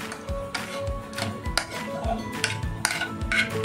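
Besan batter is scraped from a vessel onto a plate in a home kitchen, with repeated clinks and taps of metal utensils against dishes in a steady rhythm over a faint background hum.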